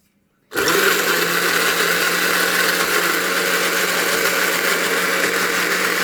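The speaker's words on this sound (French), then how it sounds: "Maintenant que vous êtes dans le mixeur, on va leur mixer la tronche." An electric blender whirs up abruptly after a moment of silence and runs at a steady loud whine, mixing a champagne cocktail, with no talking over it.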